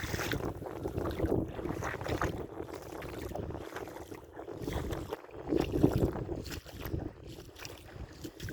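Bare feet splashing through ankle-deep water on a trail, with continuous close sloshing and irregular splashes of wading steps, plus gusts of wind buffeting the microphone.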